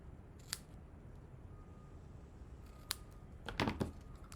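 Scissors snipping the ends of ribbon during paper crafting on a one-sheet card project: a few quiet, sharp cuts spaced apart, with a small cluster of snips near the end, faint and close.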